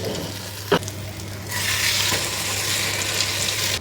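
Bread cooks in a pan with a continuous close sizzle that grows louder partway through, with a sharp clack from the pan near the start and another at the end.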